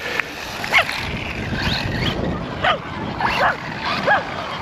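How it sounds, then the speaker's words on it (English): A dog in a park barks and yips in short bursts, with whimpering cries between them, at moderate distance over a steady outdoor background hiss. "Oh, we got a dog interested."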